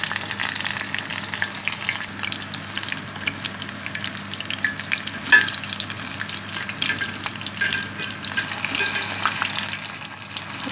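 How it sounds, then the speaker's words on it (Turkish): Cauliflower stems frying in hot oil give off a steady, close sizzle with a constant crackling hiss and occasional stirring scrapes throughout, and no voices. "ben saplarını da ayrı ayrı doğrayıp onları da kızartıyorum."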